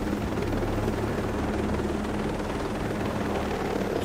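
Helicopter flying in the military video game DT.HELIX Motherland, a steady, loud rotor drone with a low throbbing hum that holds evenly throughout, no talking over it.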